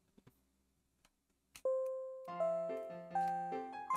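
A doorbell chime in a Pokémon video game, a few faint ticks followed by a clean electronic melody of stepped tones that ring out one after another, loud and alone.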